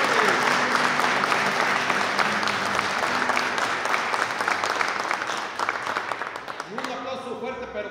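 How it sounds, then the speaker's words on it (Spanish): A crowd at a village patron saint festival claps in loud, dense applause that holds steady for several seconds, then thins out and fades as a voice begins speaking over it. "Un aplauso fuerte, pero que se escuche para la fiesta de nuestro santo patrón, el Señor Jesucristo."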